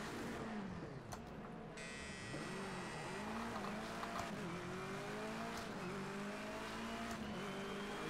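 Touring race cars revving and launching off the line at a WSRC race start in Project CARS 2, a dense loud engine roar with rising and falling gear tones and a burst of tire squeal, continuous throughout.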